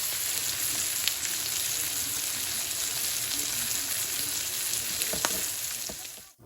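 Sirloin steak sizzling loudly in a cast iron pan while being basted, a dense continuous fry with faint spoon scrapes and a soft knock near the end, close and without talk.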